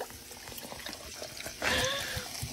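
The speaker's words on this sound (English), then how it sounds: "You want to pour slow because you don't want the gas to run out quickly." Coke poured into a cup at home, a steady liquid trickle that swells into a louder, fizzing pour partway through, fairly close and heard alone without talk.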